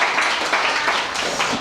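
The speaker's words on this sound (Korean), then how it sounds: "다시 한번 일어나셔서 인사하시면 박수로 환영해 주시기" Audience clapping steadily in a lecture hall at a marriage seminar, welcoming a speaker; even, continuous applause from a crowd with no distinct talk over it.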